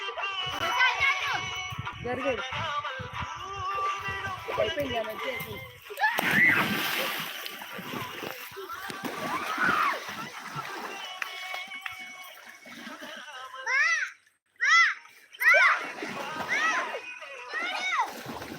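A child splashing while back swimming in water on a farm, with light irregular splashes and sloshing close by, heard under frequent excited talking by a child and adults.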